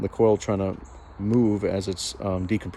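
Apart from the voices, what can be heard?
No distinct noise like a dog, phone or traffic.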